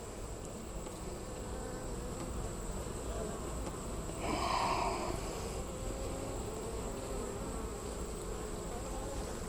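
Honey bees buzz steadily around a beetle trap in a hive, a close, continuous drone that swells louder for a moment as one flies near.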